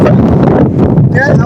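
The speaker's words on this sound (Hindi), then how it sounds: "तेज हवा चल रही है, बड़ी ठंडी तेज हवा चल रही है।" Strong, cold wind blows across a mountain road between Naran and Babusar Top, buffeting the microphone with a loud, continuous low roar and rough gusts through the whole moment.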